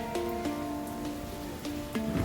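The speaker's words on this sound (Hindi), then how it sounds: "अभी बारिश हो रही है।" Steady rain pours down in a continuous hiss with scattered louder drops, while faint tonal sounds ring faintly in the background.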